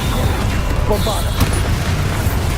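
Bombarda blasting spell in the video game Hogwarts Legacy, making a short booming blast with a crackling burst over a constant low rumble of game noise.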